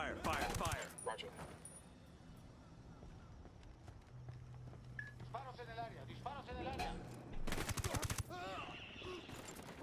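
Gunfire in the video game Ghost Recon Wildlands: loud bursts of shots open and close the stretch, with sharp clicks and quieter game sounds in between and voices talking over parts of it.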